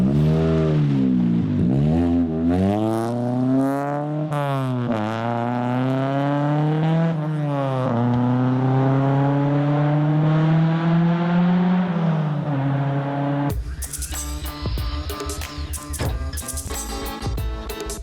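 A 1967 Morris Mini Van with a swapped-in Honda B18C VTEC Type-R engine, heard from inside while driving: loud, close engine rising and falling through repeated revs and gear changes, climbing to a high wail, then rattling cabin noise.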